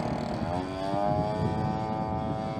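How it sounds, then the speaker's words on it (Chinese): A model Zero carrier fighter plane's small engine drones steadily with a rough, tractor-like buzz, moderately loud and continuous throughout. "首先登场是一架小8个的零式舰载战斗机啊，这拖拉机般的发动机声音啊"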